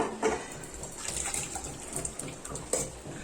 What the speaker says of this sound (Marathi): ही आपली ग्रेव्ही ओतलेली आहे.